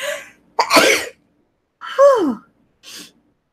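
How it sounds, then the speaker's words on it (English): A single sharp, forceful sneeze, loud and close, with a breathy build-up beforehand and a short exhale afterward. "that was a big sneeze"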